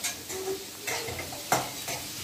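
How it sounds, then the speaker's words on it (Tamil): Finely chopped onions sauté in hot oil for an aloo chapathi filling, with a soft continuous sizzle broken by several scraping stirs of a spoon against the pan, close and fairly loud. "வெங்காயத்தை போட்டு கொஞ்சம் வதக்கிக்கோங்க"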